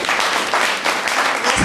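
An audience of parents at a school orientation meeting claps steadily, a dense, loud wash of applause that holds throughout, close and without speech.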